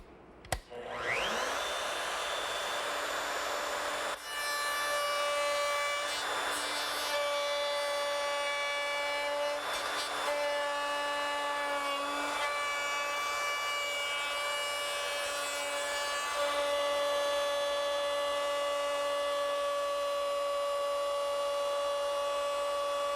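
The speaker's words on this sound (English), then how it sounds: "Now here's where the router comes in." A router fitted with a straight bearing-guided cutting bit trims excess wood along a template while building a pergola, giving a loud, steady high-pitched whine that runs almost unbroken for over twenty seconds, with a few brief changes in load.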